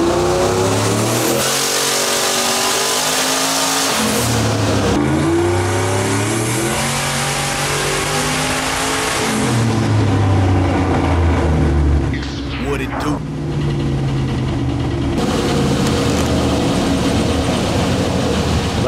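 A turbocharged SBE Chevrolet Silverado with Holley Terminator X engine management revs hard on a dyno, loud rising engine pulls repeating in stepped sweeps, with a brief dip near the end before resuming.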